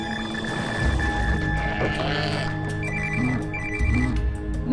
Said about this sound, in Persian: صدای وینگ وینگ موبایل کامتونه ها؟